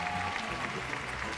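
Brief applause at a university graduation ceremony, a dense wash of clapping from a crowd in a large hall, moderately loud and steady for a moment.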